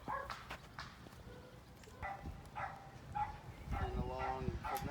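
Dogs bark and yip outdoors in short, irregular bursts, fairly faint and somewhat distant, mixed with people talking nearby.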